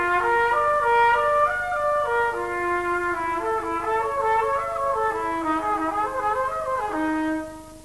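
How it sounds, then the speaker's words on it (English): A trumpet plays slow warm-up exercises alone, sustained tones stepping up and down in steady, even pitches at moderate loudness, with no talking. "So what he's talking about is a warm-up on the trumpet sounds"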